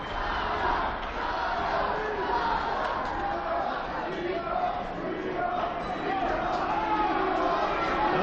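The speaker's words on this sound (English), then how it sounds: "Crowd is firmly behind Chavo," A wrestling crowd at an IWC Night of Superstars event cheers and shouts for Chavo in a steady, dense roar that fills the arena without a break.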